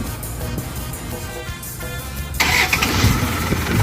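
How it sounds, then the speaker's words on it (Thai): An old Isuzu diesel engine in a six-wheel dump truck cranks and then catches, settling into a loud rough idle close by with no talk. "เครื่องติดสตาร์ติดง่ายนะครับเป็นหกล้อ แล้วก็ดัมครับ"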